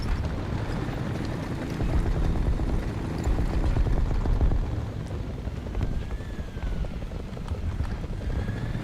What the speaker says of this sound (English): I can hear choppers.